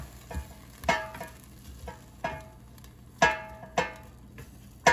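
Air-fried chicken and broccoli tossed in an air fryer basket, giving about six separate scraping clatters at an uneven pace, fairly close, with quiet pauses between them and no talking.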